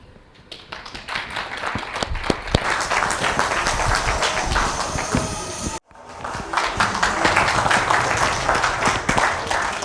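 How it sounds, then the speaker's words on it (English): A round of loud, continuous applause from an audience at a corporate team-building event, with a brief dip midway before the clapping swells again. "Thank you for the round of applause."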